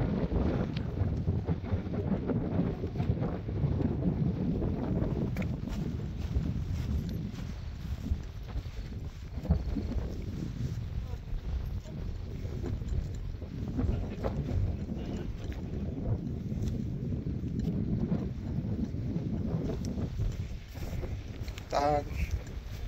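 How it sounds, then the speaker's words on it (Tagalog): Strong wind rushes across a mountainside along a hiking traverse, a loud, continuous buffeting roar battering the microphone for the whole stretch, with brief faint sounds near the end. "sarap ng hangin, ang lakas ng hangin"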